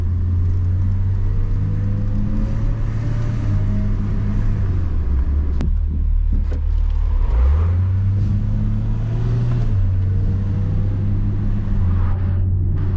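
A classic BMW E30 325iX drives along with a steady, low engine drone that swells and eases as it accelerates and shifts, with continuous road and cabin rumble and no talking.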